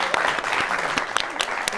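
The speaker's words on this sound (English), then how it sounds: "Can we clap for Tonika?" Brief burst of audience applause in a talk-show studio, dense clapping over about two seconds with a voice faintly present underneath.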